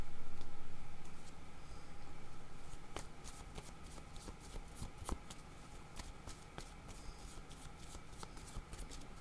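Playing cards for a card reading are shuffled by hand up close, a steady run of rapid riffling flicks and soft slaps lasting several seconds, quiet and crisp with no voices.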